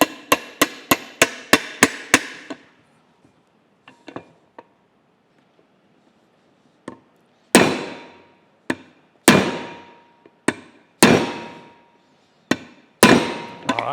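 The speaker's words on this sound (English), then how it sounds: "I'm going to need a hammer to drive that home" Hammer blows striking a rivet into a Case steam governor during reassembly with new Babbitt bearings: a rapid burst of about eight sharp metallic hits, a few faint taps, then seven heavy, ringing strikes spaced about a second apart.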